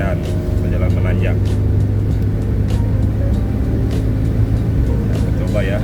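Suzuki Carry engine pulling uphill in third gear on a climbing road, a steady low drone with constant road and cabin rumble throughout, loud and close.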